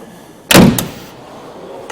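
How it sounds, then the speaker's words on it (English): At a classic car auction preview, the heavy door of a classic car shuts with one loud, close, solid clunk and a short rattling follow-through, then near quiet. "Proper clunk to the door."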